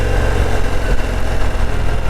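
A Harley-Davidson Heritage 114 motorcycle rumbles steadily while it is ridden around a tight corner, with a loud, close, low engine drone throughout and no speech.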